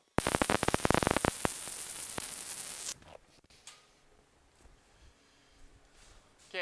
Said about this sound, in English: So I'm gonna go ahead and weld these, and I'll show you how to stitch weld on the back.